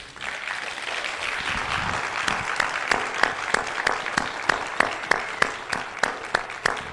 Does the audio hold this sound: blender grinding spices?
no